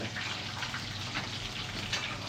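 Food deep frying in hot oil for cuanki at a street stall in Bandung, a continuous close bubbling sizzle with crackling pops.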